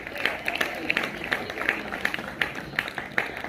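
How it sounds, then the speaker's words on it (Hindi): A school Republic Day crowd claps for a little girl, loose rhythmic hand claps at moderate loudness with faint crowd murmur behind. "जोरदार ताली भाई छोटी सी बिटिया के"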